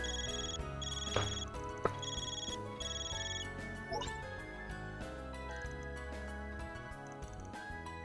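A phone rings in the video game Trails Beyond the Horizon, a repeating electronic ringtone pattern heard over game music and effects, fairly quiet.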